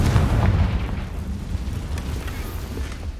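A Confringo fire blasting spell goes off in Hogwarts Legacy, a deep rumbling boom that rolls on steadily as a loud, dense low roar with no voices over it.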